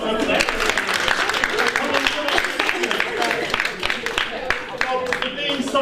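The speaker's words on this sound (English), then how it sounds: "Okay, round of applause for that." Audience at a live comedy show giving a dense round of clapping that is loud and sustained throughout, with a voice speaking over it.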